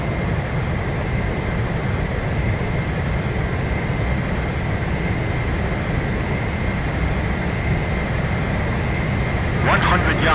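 Jet engines of fighter aircraft roar steadily during an aerial refueling approach in Ace Combat 5, a loud continuous drone that holds throughout with a brief hiss near the end.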